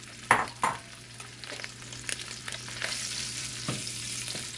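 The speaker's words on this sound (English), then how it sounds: "So we're gonna let these sausages brown" Smoked sausages brown in a mix of butter and grapeseed oil in a pan, a constant close sizzle with a couple of loud clatters early on and softer utensil knocks afterward.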